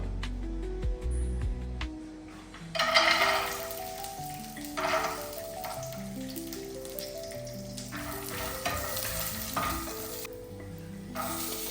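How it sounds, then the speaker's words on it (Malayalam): Ghee heats in a pan for chicken majboos with a steady sizzle and light stirring, a few louder bursts of frying as raisins go in, continuous and close with no talk. "കുറച്ച് അര സ്പൂൺ നെയ്യ് നമുക്ക് ഇതിലേക്ക് ഒഴിച്ച് കൊടുത്തിട്ട് ഒന്ന് ചൂടാക്കാം."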